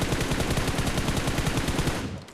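Rapid automatic gunfire in an online shooter video game, a dense rhythmic burst of close, loud shots lasting about two seconds before cutting off abruptly.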